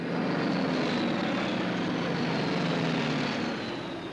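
Steady, loud drone of TBF Avenger torpedo bomber propeller engines, low-flying over the ocean in wartime, holding continuously at close range with no voices.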